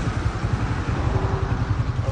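A motorcycle with a punctured tyre, being ridden to a repair shop, gives off a steady low engine rumble with a regular throbbing pulse. It is fairly loud and continuous, with no talk over it.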